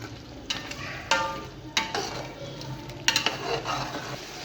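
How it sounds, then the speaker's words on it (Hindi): Spices being stirred into chicken sobat gravy in a pot, a traditional D.I.Khan dish, with a spoon scraping and clinking against the pot in several distinct strokes over a soft background sizzle. "इनको अच्छे से मिक्स कर लेंगे।"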